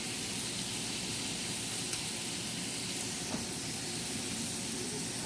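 Steady hiss and sizzle from a hot pan as the cooking juices are scraped up and lifted off the bottom, continuous and fairly close, with no voices.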